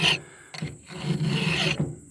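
A file rasps across chainsaw chain teeth to sharpen them, making short, gritty scraping strokes, close and loud, with a brief pause between passes.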